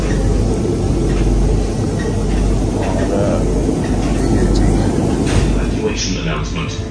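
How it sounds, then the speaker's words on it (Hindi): Le Shuttle train beginning to roll through the Channel Tunnel between Folkestone and Calais, a loud continuous low rumble and rattle inside the carriage that grows steadily, heard alone. "ट्रेन चल पड़ी है।"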